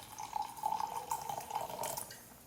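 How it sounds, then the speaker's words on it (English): A drink poured right beside a microphone on a podcast set, a close, bubbly liquid stream with a steady glassy ring that fills for a couple of seconds before trailing off. "That pour just happened right next to the microphone."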